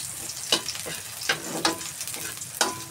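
Chopped garlic frying in oil in a pan until golden brown, a steady close sizzle broken by sharp crackles and stirring scrapes at irregular moments.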